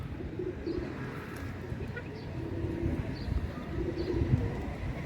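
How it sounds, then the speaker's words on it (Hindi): Soft repeated pigeon coos, low and rolling, several in a row close by, over a faint background hum. "ये है वो कबूतर जो मैं रात रह के आया"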